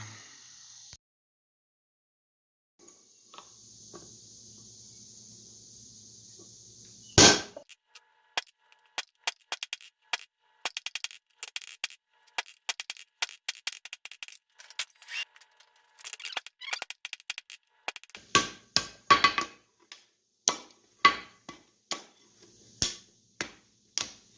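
Steel railroad clip being forged with a hammer while upsetting the end, a string of sharp metallic strikes that start abruptly and repeat irregularly, then grow louder and spaced out near the end.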